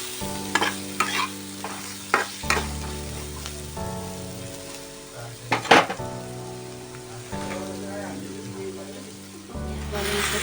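Shrimp and turmeric being stirred in a frying pan, a spatula scraping in bursts over a steady sizzle, with a sharp clatter of utensil on pan near the middle and a low tonal hum underneath.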